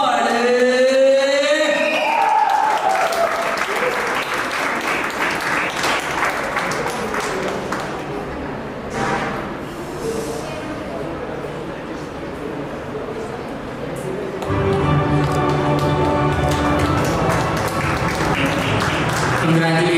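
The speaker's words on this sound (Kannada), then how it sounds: "ಚಪ್ಪಾಳೆ" Audience applause at a state award ceremony, sustained clapping rising loud over a hall with a voice speaking through parts of it and music-like tones near the start and end.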